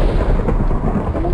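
A deep, continuous rumble of thunder rolls loudly through a steady wash of rain in a Minecraft game, with no talking.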